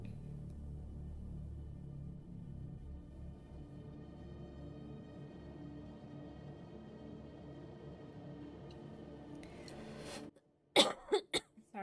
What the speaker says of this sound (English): Sorry about my coughing, guys.